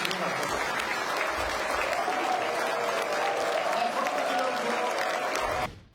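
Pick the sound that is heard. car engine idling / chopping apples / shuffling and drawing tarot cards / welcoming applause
welcoming applause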